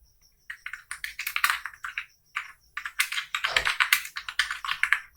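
Rapid typing on a computer keyboard, close and crisp, with bursts of clacking keystrokes and one short pause.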